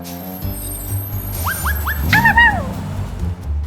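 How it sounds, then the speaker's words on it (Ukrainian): Several dogs yip, bark and whimper in a short flurry of high, rising cries, close and fairly loud over low background rumble. "У нас забагато собак."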